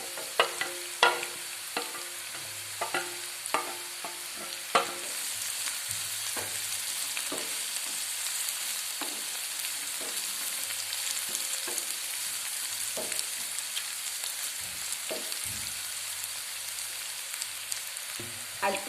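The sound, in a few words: green chillies and curry leaves frying in a pan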